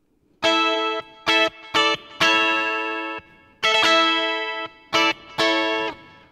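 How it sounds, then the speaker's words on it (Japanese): An LA-240KK electric guitar with Honduras mahogany, flame maple and EMG pickups plays a sequence of bright sustained chords through a BOSS GT-1 with reverb, each strike ringing out with a spacious tail. "リバーブで壮大さを出していきます"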